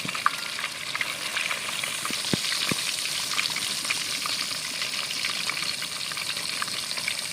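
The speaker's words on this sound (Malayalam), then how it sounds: "തീ കുറച്ച് വെക്കണം പൊടിക്കുന്ന സമയത്ത് അല്ലെങ്കിൽ മീൻ കരിഞ്ഞു പോവും" A large fish frying in oil in a pan on a low flame, a steady dense crackling sizzle held throughout, with a couple of small sharp clicks near the middle.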